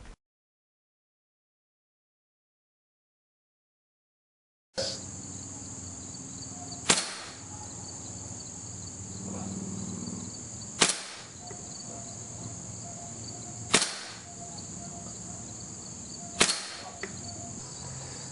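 A WE M14 green gas blowback airsoft rifle fires outdoors, four sharp isolated shots spaced a few seconds apart over a steady chorus of insects, after a few seconds of silence.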